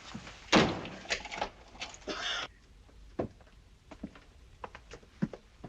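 Aboard a ship, a cabin door thuds shut with a sharp knock, followed by a rattling scrape like a lock or bolt being worked, then soft scattered clicks and faint rustles in a quiet room.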